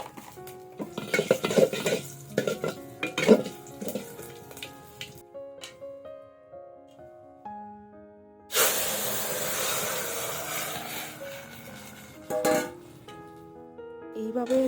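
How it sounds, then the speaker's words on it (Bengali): Tempering dal: a sudden loud hissing sizzle bursts out as the hot spices hit the lentils and fades over several seconds, preceded by clattering pots and utensils and a soft voice in between. "ডালের যদি বেশ ভালো একটা শব্দ না হয় সম্বাস দেওয়ার সময়, তাহলে ডাল স্বাদ হয় না"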